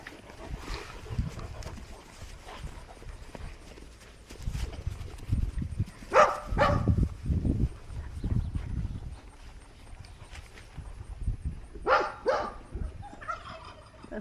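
A dog barks a few times in the distance, in two short bursts several seconds apart, over outdoor shuffling and rustling.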